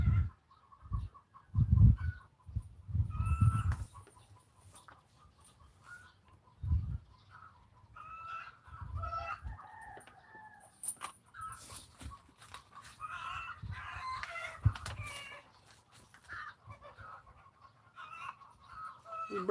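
Chickens cluck and squawk in a noisy, enclosed chicken house, irregular bursts of calls with some low thumps and rustling.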